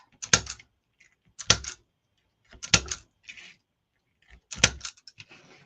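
Scissors snipping through ribbon for a DIY ribbon flower wreath, four separate crisp cuts spaced about a second apart, close and fairly loud with quiet gaps between, no talking.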